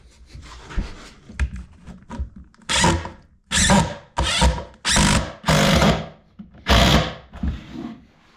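A power trimmer mounted on a drill whirs in several short bursts of about a second each, loud and close, with brief pauses between runs.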